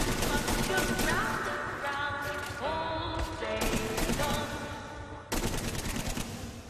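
Rapid gunfire from shooting enemies in the game Saints Row: Gat Out of Hell, dense bursts of shots layered over game music, with someone talking throughout.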